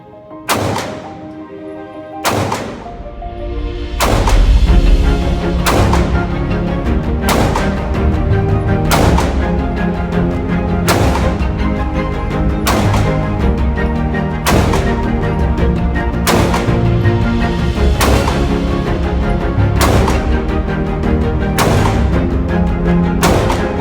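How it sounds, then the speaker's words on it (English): A handgun is fired repeatedly at a target on an outdoor range during concealed carry training, about a dozen loud, evenly spaced shots emptying the magazine with no talk over them. "Empty that magazine into that target."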